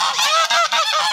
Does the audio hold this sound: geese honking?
yes